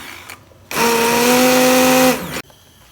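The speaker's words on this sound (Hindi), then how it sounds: "सारे मसाले को हम ये हैंड ब्लेंडर की मदद से इसको ब्लेंड कर देंगे" A hand blender purees spice masala for a fish curry, a loud close whir that starts abruptly, runs steadily for under two seconds and cuts off.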